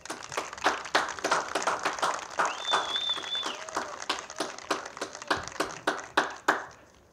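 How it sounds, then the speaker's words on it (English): Crowd applause for Franklin County Baseball Hall of Fame honorees at an induction ceremony, a steady patter of many hands clapping with sharp individual claps standing out, sustained for several seconds. "Let's give them a loud round of applause."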